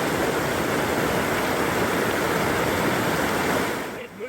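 Water rushes over rapids and small waterfalls in a dense, constant roar. It is loud and close, then eases off in the final half-second.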